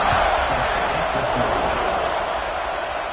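A dense stadium crowd in a college football video game, Alabama versus Georgia, roars steadily and loudly as one continuous wash of cheering with no pauses.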